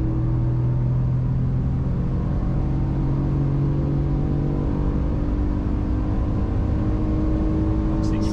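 A Ford F-150 pickup on a test track gives off a steady, loud engine drone with a sustained tonal hum inside the cabin, holding constant throughout without a clear rising rev.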